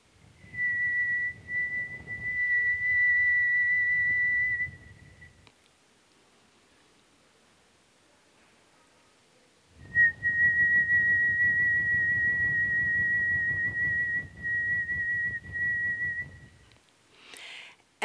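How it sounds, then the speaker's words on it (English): Performers whistle sustained single tones on the out-breath, two long steady whistles separated by several seconds of near silence, each accompanied by soft breathy rustling. "on the out-breath, they whistle a tone, whatever tone they want."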